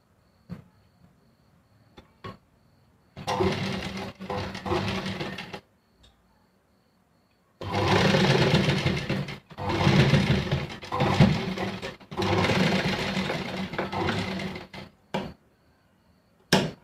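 A sewing machine stitches the shoulder seam of a blouse top in several bursts of rapid whirring chatter of a few seconds each, separated by quiet pauses with small clicks of fabric handling, close and clear.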